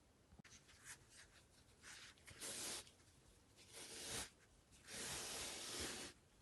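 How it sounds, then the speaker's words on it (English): Glue backing being peeled off fusible fleece for a sewing machine cover, heard as soft, close, quiet ripping and tearing in irregular bursts, some short and some longer and drawn out, with no talking. "peel away the gluey side from your fusible fleece"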